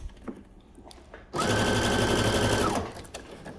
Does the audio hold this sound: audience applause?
no